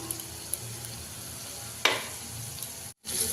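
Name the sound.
yogurt and spice masala sizzling as it is stirred in a pan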